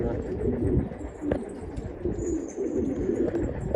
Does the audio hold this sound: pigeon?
yes